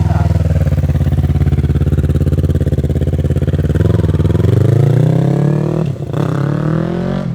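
A Yamaha R3 motorcycle with a streetfighter build idles loudly and steadily up close, its twin-cylinder engine thrumming evenly with a slight shift in pitch partway through and a brief dip near the end.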